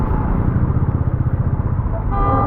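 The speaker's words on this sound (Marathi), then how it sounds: "ही बघा ट्रॅफिक, मजबूत अशी ट्रॅफिक." Car horns toot over the rumble of idling engines and motorcycles in a jammed Mumbai road after rain, with steady close traffic noise and a sustained honk toward the end.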